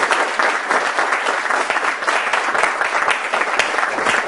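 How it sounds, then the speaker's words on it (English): An audience at a compensation-plan training session applauding a coach, dense, loud, continuous clapping filling the whole moment with no voices over it. "Give him a round of applause."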